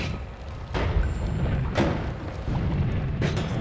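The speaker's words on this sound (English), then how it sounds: "Oh, oh, that's a missile launcher." Missile launcher explosions in the video game Noita: three heavy booms spaced about a second apart, each with a rumbling tail over constant low game noise.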